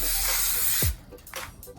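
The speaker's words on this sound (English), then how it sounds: "we're going to give it a little spray with just some non-stick spray oil." Non-stick oil spray released from a can onto a steamer basket for pork shu mai, a steady close hiss that fills the first second and then cuts off, followed by quiet room sound.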